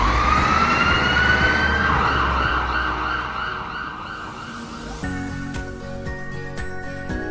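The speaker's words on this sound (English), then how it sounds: "the ambulance will be dispatched shortly" An ambulance siren wails, sweeping up and down loudly, then gives way to a steady tonal blare with traffic noise beneath; no one speaks.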